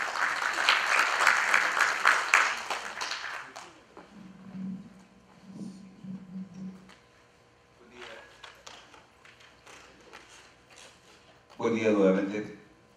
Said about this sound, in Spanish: vamos a recibir al doctor José Cedeño con un aplauso